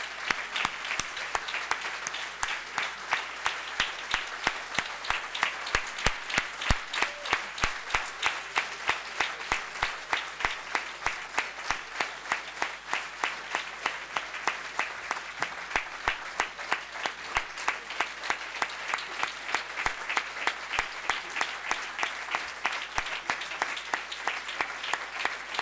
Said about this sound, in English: give him a big applause for all the work that